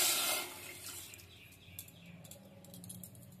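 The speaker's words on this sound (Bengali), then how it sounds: "এই বাটিরই 1 বাটি জল দিচ্ছি।" A bowlful of water poured into sugar with crushed cardamom for khaja sugar syrup, a short splashing rush at the start fading into a quieter trickle, close by in a home kitchen.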